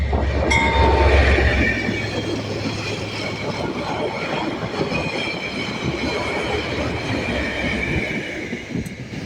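A passenger train with a locomotive at each end rumbles steadily past near Christchurch, New Zealand, wheels clattering over the rails with occasional squeals, loud and close throughout with no voices.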